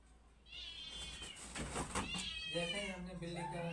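A person imitates a cat's meow with a drawn-out, wavering cry, followed by more mewing calls up close.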